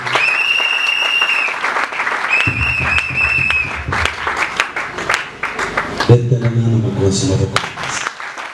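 A church congregation applauds during a worship service, steady loud clapping throughout with a voice speaking over it and a few sustained musical tones.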